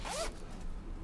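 A zipper on a Jagged Edge Mountain Gear mountain vest, made for mountain sports, gives one quick close zip with a rising whine, followed by quiet room tone.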